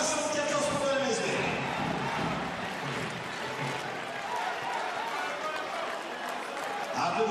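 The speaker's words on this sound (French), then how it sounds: "Papsi applaudi à son tour par le public, très connaisseur." A basketball arena crowd at an MSB versus Cholet game applauds a player with sustained, broad clapping that fills the hall. An announcer's commentary runs over the applause throughout.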